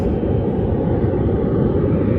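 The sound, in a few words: KLM Boeing 777-200 airliner at Las Vegas airport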